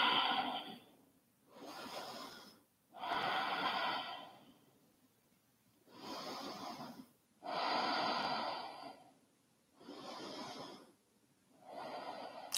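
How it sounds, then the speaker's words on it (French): Slow, deep breaths during a yoga child's rest pose in a vinyasa core flow class, several long airy inhales and exhales separated by short pauses, close and fairly quiet with no voices. "Encore 2 respirations."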